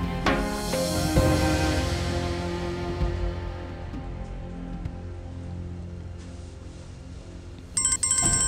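A mobile phone plays a melodic ringtone loudly, with a bright chime at the start that decays into sustained tones, then a short repeated ringing pattern near the end.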